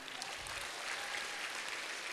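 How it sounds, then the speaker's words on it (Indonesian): Applause from the audience at a university event, a steady, dense patter of many hands clapping at moderate distance, fairly quiet and unbroken for the whole stretch. "Terima kasih sempatkan Pak Tatang, boleh kasih tepuk tangan."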